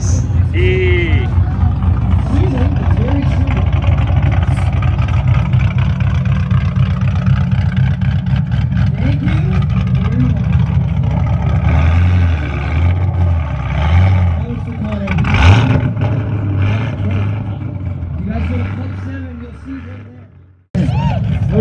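A 2008 Ford Mustang GT at a Niagara Falls car show exhaust competition, its engine idling with a loud steady rumble that rises in a few revs and cuts out briefly near the end, under constant nearby talk.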